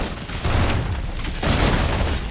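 Suppression gunfire in the sci-fi video game Love and Deepspace, a dense continuous barrage of rumbling shots and booms with a swell midway, loud and steady throughout with no talk over it.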